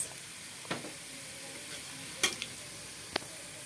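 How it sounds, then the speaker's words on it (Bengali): Onions frying in oil in a kadai: a steady, close sizzle with a few sharp ticks and clinks of stirring, no talking. "আমি কড়াইতে পেঁয়াজ দিয়ে দিয়েছি তেল দিয়ে দিয়েছি"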